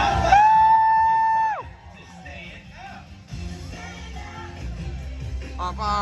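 Parade crowd at Mickey's Not So Scary Halloween Party cheering, whooping and yelling, mixed with children's shouts; loud at first, then a steady lively roar beneath background music and a tonal sweep.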